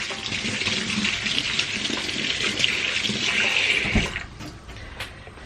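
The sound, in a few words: running tap water wetting hands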